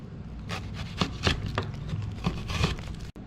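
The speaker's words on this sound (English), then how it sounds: "then start chopping. When you chop, keep your knife down." A knife chops and dices onion on a cutting board in a home kitchen, giving a run of soft, irregular scraping thuds up close over a steady background hiss, with no talk.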